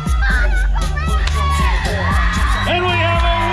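Crowd at an Oklahoma catfish noodling tournament cheers and whoops for a young winner, a loud mix of shouting adults and children with an amplified voice speaking over the commotion.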